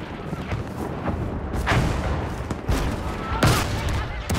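Battlefield V combat with explosions and attacks from planes: loud booms and bursts of gunfire strike at irregular intervals, a big blast near the middle and another near the end, over constant battle noise.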